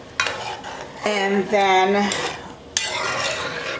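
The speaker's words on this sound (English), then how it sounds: "Now we're going to give this a stir" A metal spoon stirs seasoned pork drippings with Sazon in a cooking pot, giving close scraping and clinking against the pot in short bursts, with a brief spoken phrase partway through.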